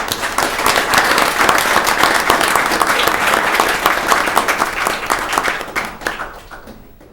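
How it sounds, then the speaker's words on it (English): Crowd at a county council meeting gives a loud round of applause, dense clapping holding steady for several seconds before tapering off and fading out near the end. "So if you would, give them a round of applause."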